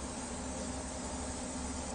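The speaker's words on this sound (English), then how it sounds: "I'm gonna give it a nice spray" An oil spray can is spraying onto a grill, giving a steady, continuous close hiss that runs unbroken for about two seconds.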